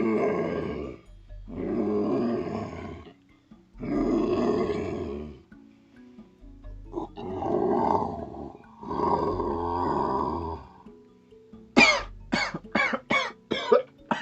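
A man imitates a lion with his voice, giving several long, throaty roars separated by pauses and then a quick run of short, sharp coughing grunts at the end.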